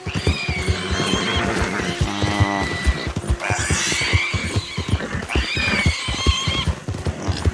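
A horse gallops in Red Dead Redemption 2, with a steady rapid hoofbeat rhythm and loud whinnies breaking over it throughout. The game sound is close and continuous.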